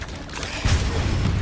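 A Confringo blasting spell detonates in Hogwarts Legacy, a sudden deep boom that sets in partway through and rolls on as a sustained low rumble of fire and debris, with no voice over it.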